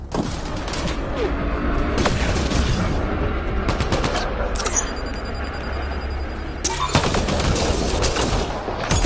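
Dense, continuous weapon fire in the video game Mass Effect Andromeda, loud overlapping shots and blasts forming a sustained barrage with a brief lull near the end.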